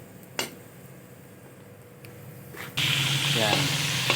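Meat hits a hot pan for sautéing in a mongo dish, bursting into loud sizzling partway through after quieter scraping and a sharp clack, and the sizzle stays strong to the end.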